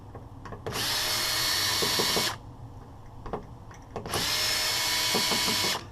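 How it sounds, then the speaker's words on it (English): Power drill unscrewing screws from a large-format scanner during teardown, two sustained whirring bursts of about two seconds each with a pause of small handling clatter between them, close and loud. "We've got a little bit of unscrewing to do here."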